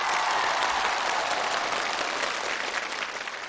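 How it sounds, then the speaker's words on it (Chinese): A studio audience on a challenge show claps for Wang Zulan, bright continuous applause that starts full and gradually thins out toward the end. "来，掌声鼓励一下王祖蓝"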